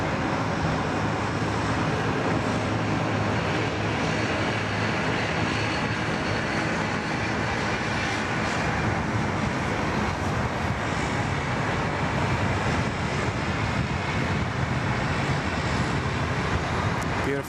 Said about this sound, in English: this aircraft is about to land on 34 left.